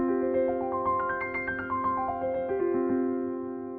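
A piano arpeggio climbs and then descends, jumping from thumb to pinky in clear, evenly spaced notes with sustained ringing tones, played alone.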